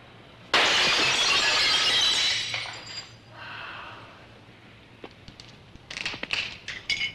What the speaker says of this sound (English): Not much left of the window, but a lot of dangerous broken glass on the floor.